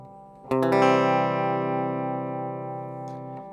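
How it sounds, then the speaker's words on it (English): One electric guitar chord is strummed and left to ring with the humbucker split, giving a bright, slightly thinner tone that decays gradually, and faint string noise near the end. "to just show you what it sounds like when I split it"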